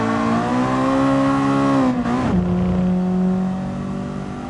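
Civic Type R engine in a racing game holding steady revs, then dropping sharply and bogging on the second-to-third gear shift before droning on at a lower pitch, loud and close.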